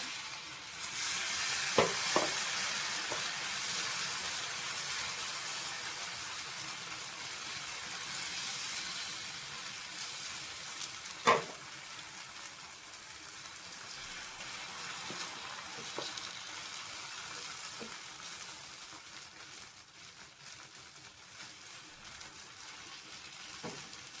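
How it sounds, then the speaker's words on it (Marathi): Green moong dosa batter sizzles and fries on an oiled hot tawa, a steady soft crackle with a few sharp pops, continuous and close with no voices. "तवा गरम झाल्यावर तव्याला थोडंसं तेल लावून घ्यायचं आहे आणि डोसे तयार करून घ्यायचे आहेत."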